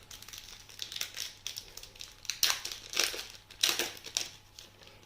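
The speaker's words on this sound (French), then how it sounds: "Il nous reste 9 boosters à ouvrir." Foil Yu-Gi-Oh booster packs crinkle and tear open up close, making dense bursts of crackling and rustling that swell and fade in waves with no talking.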